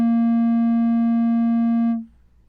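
A eurorack synth oscillator holds a steady, clear sine-like tone with faint overtones, sustained evenly for about two seconds before cutting off abruptly into near silence.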